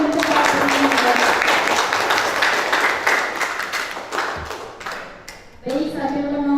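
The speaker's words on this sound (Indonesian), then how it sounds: "Beri tepuk tangan dulu sekali lagi untuk Pak Rusdianto." Audience applause at the close of a lecture during a campus orientation event in Sampit, a dense burst of many hands clapping that thins and fades before surging again near the end.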